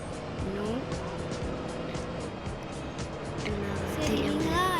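A car driven in GTA San Andreas hums along with engine drone and occasional tire squeals, steady and mid-level, with a player speaking over the game sound.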